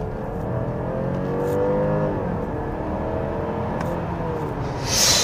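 A BMW 530e hybrid driven in hybrid mode accelerates hard at mid-to-high speed, its engine and drivetrain rising steadily in a continuous whir and drone heard from inside the cabin, with a brief burst of noise near the end.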